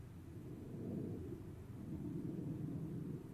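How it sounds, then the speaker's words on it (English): Sonic booms from a returning Blue Origin New Shepard rocket booster: a deep, distant rumbling boom swells and rolls for a few seconds, faint and low, like thunder echoing from far away. "Sonic booms."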